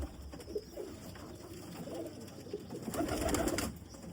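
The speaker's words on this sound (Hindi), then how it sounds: "अच्छा ये करिश्मा कला कबूतर है।" Soft, low cooing of a Lahore high-flying pigeon repeats in the background amid rustling and ambient noise, growing a little louder near the end.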